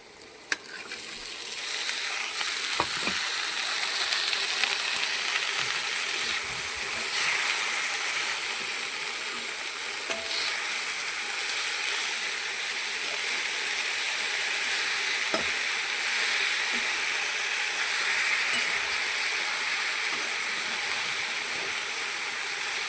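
Washed leafy greens fry and sizzle steadily in a hot pan, with a continuous close crackle and occasional stirring scrapes throughout.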